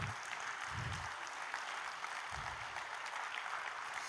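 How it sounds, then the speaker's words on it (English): Audience applause at a live Indian classical music and Sahaja Yoga meditation event, a steady broadband wash of clapping that fills the whole stretch at moderate level. "Let us all give a big round of applause to them."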